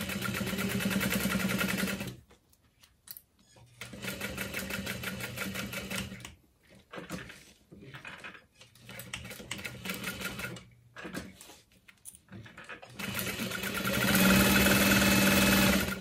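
A sewing machine bastes along the top edge of a satchel bag, running in loud close bursts of rapid stitching separated by short pauses, with no talking.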